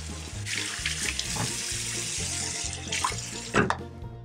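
Water runs steadily from a bathroom sink tap while a sticky exfoliating face mask is washed off, a close continuous splashing stream broken by brief louder splashes from hands in the water, with no speech.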